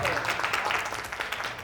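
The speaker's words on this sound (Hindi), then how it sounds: "और आप मुझे तालियों की बौछार दे देना" An audience at the Lok Mic Raigarh 2023 poetry event breaks into a short, fairly close burst of applause for a poet, the clapping uneven and fading slightly toward the end.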